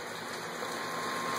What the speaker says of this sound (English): as you can see, rainy, which is not typical of August here